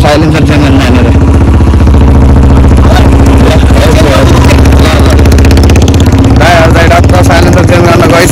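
A motorcycle engine runs steadily and loudly throughout a ride from Khaireni to Ranijharna in Palpa, mixed with a constant rumble and clatter, while voices talk over it.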